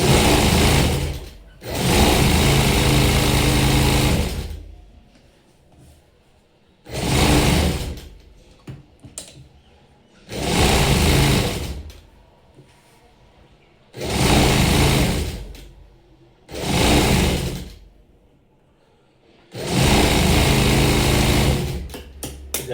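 Sewing machine stitching a blouse piece onto the front panel, running in several loud bursts of a few seconds each with quiet pauses and faint handling between runs, close by.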